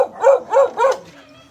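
Three quick, close dog barks in a row, each short and sharp, then a faint trailing whine.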